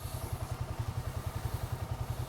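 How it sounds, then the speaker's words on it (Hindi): A motorcycle engine idles steadily while warming up before a ride in South India, a loud, close, even low chugging pulse running through the whole stretch with no talk over it. "ऐसे गाड़ी मैंने वार्म अप के लिए लगाई थी अभी."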